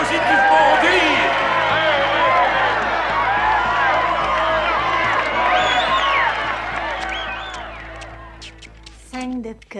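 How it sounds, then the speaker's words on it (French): A wrestling-match crowd roars and cheers wildly after a victory, a dense, loud wall of whoops and shouts that gradually thins toward the end, with scattered clapping and brief speech near the close. "la foule est positivement en délire"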